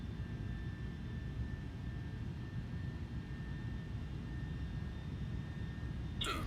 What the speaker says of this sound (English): We're basically full flaps, and we're on descent.